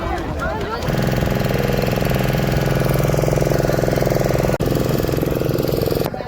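A boat engine runs steadily at close range during a boat ride at Talsari near Digha, a loud continuous mechanical drone with a brief dip near the end.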